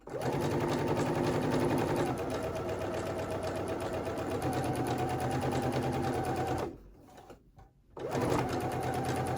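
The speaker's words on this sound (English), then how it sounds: "I can sew pretty quickly because I'm using my presser foot to kind of use as a guide" A sewing machine runs fast and steady, stitching the seam of a halter maxi dress with a dense mechanical whirr, pauses briefly near the end, then starts up again.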